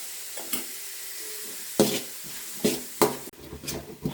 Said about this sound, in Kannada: ಕಟ್ ಮಾಡ್ಕೊಂಡಿರೋ ಈರುಳ್ಳಿ ನೀನಾಗಿ ಫ್ರೈ ಮಾಡ್ಕೊಬೇಕು